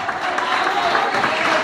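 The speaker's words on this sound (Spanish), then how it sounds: "Fuerte el aplauso para decir las tradiciones de Chile." An audience at a Chilean folk peña gives a short, dense burst of steady applause for a traditional folk group, loud and continuous throughout.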